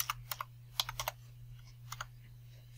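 Soft clicks of typing on a computer keyboard while entering a task name, a few quick irregular keystrokes in small clusters, faint and close over a low steady hum.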